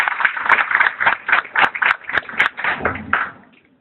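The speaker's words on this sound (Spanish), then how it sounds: "Un aplauso para el señor, por favor." A small audience at an accounting thesis defense claps for a presenter, a close, rhythmic patter of individual hand claps lasting a few seconds before fading out.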